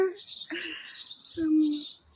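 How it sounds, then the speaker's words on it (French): Small birds chirp outdoors in quick, high twittering bursts that repeat close by, while a voice talks underneath. "surtout à l'extérieur avec les petits oiseaux"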